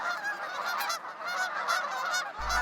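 Canada geese and mallards honking and calling together at a patch of open winter water, a steady chorus of overlapping goose honks close by.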